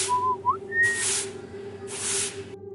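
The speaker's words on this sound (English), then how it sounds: "The whistling didn't stop." A short, faint whistled tune of a few rising notes, followed by two bursts of hissy sweeping noise over a steady low hum.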